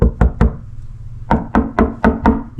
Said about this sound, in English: You can also knock it just to feel it.